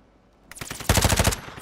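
Automatic gunfire in the video game Warzone 2.0, a loud burst of rapid shots starting about halfway through, dense and close, with no talk over it.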